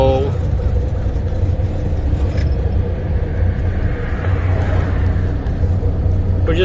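A car rolls along back streets while detouring around a traffic jam or accident, giving a steady, loud engine and road rumble that runs through the whole stretch with no talk on top.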